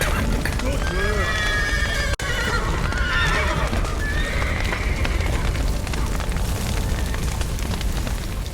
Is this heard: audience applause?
no